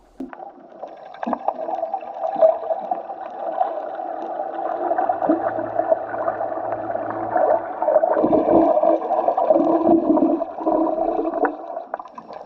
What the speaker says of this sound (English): Just turning up your trolling motor makes a lot of noise